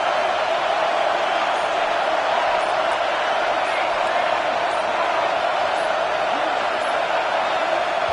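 Crowd noise in a PS5 football video game, a loud, steady stadium roar that holds evenly throughout the clip without breaks or distinct cheers.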